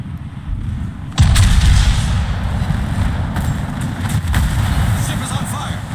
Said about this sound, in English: Kitakaze is shooting AP at a bow-in, and he's not doing much